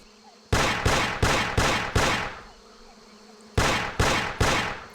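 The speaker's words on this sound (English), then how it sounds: "I thought I'd just give a few shots to see if we could, like, potentially hit them" Gunshots in the game Carnivores Legacy: two loud, close volleys of evenly spaced shots, five then three, each with a ringing tail and a pause between the groups.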